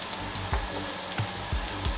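Water poured into a pan holding a ground paste of cumin, garlic and onion, giving splashy liquid sounds with a few soft low thumps and faint sizzling at close range.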